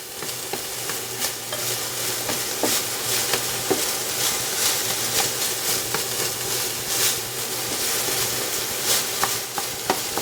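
Ground meat browning in a pan for sloppy joes, a steady close sizzle with frequent scraping stirs and light utensil clicks throughout.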